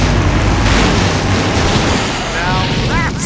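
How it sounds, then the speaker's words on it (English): A loud, sustained explosion rumbles through the Full Throttle Remastered video game scene, a broad roaring blast that fills the clip and slowly tapers, with brief whistling debris sounds near the end. "Now that's an explosion, ladies and gentlemen."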